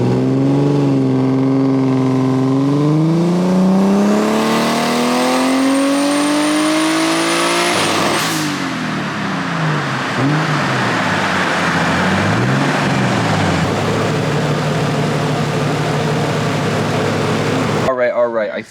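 Boosted BMW E36 engine on a dyno, loud and close, revving up with a rising pitch before dropping into a rough, fluctuating drone that holds steady, with a voice speaking faintly underneath.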